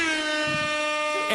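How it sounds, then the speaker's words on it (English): A soundboard air horn blasts one loud, sustained brassy tone with rich layered harmonics, close and steady, ending in a short burst of noise. "air horns that I intend on abusing"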